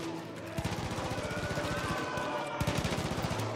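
Rapid automatic gunfire in Far Cry 5 aimed at speakers, a dense burst of shots, pausing briefly then resuming, loud and continuous over game background noise.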